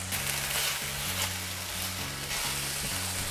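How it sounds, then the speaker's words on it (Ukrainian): Vegetables stew in a pan with a steady, close sizzle and frying crackle, while a low rhythmic background tune plays beneath it. "Ще треба трошечки-трошечки потушкувати."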